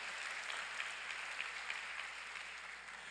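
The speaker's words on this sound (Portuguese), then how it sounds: "dê um aplauso ao Senhor Jesus" A church congregation gives a brief round of applause during a Portuguese sermon, faint and distant, an even patter of many hands with no talking.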